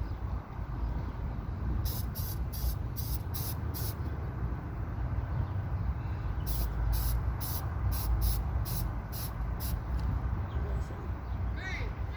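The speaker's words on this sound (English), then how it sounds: "we're going to spray our filter down with some oil here" Short bursts of an aerosol oil spray hiss onto a car air filter in two quick series of spurts over a steady low rumble of background noise.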